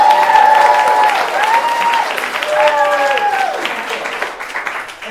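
An audience at the Ice House comedy venue applauds steadily, with loud whoops and cheering voices rising over the clapping throughout.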